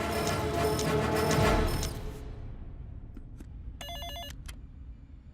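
A telephone rings with an electronic trilling tone that cuts off, followed by a quieter room and a brief burst of higher ringing beeps.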